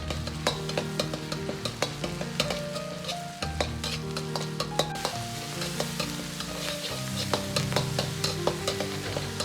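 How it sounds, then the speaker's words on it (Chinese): Pickled chili sauce stir-fried in a hot wok with scallion oil, ginger and garlic: steady close sizzle with repeated scraping and clinks of the spatula against the metal, continuous throughout. "接着下入10克的泡椒酱，"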